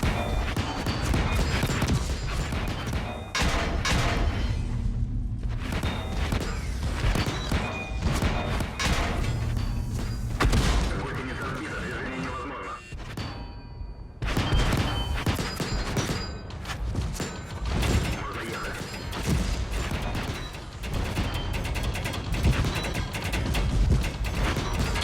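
An IS-7 tank in World of Tanks blocks incoming shots: a dense, relentless barrage of heavy impacts, metallic clangs and ricochets, loud and continuous, with a few brief lulls between bursts.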